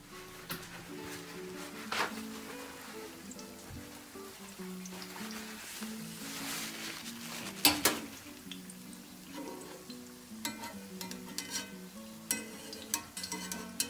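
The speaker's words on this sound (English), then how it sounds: "And so we'll just let them cook for a minute on this side." Dandelion fritters frying in hot oil, a soft steady bubbling sizzle punctuated by scattered crackles, pops and light utensil clicks, with no talking.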